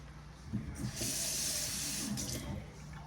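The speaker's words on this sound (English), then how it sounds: "I'm gonna add just a little bit more water" Water pours into taco meat cooking in a pan, a steady splashing hiss that swells for about a second and a half and then eases off, with faint sizzling underneath.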